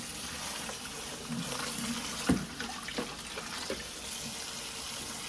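Running water rinses herbs and soursop leaves in a kitchen sink, a steady faucet stream with a brief splash and clunk midway, close and moderately loud, no talking.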